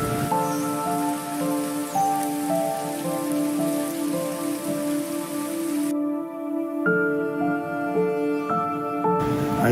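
Steady rain falls continuously, a dense even patter under sustained musical tones throughout.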